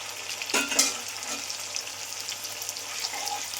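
Ginger paste hitting a hot pan with tomato for a vegetarian soybean curry, giving a steady close sizzle and frying hiss, with a brief burst of stirring clatter early on and no talk.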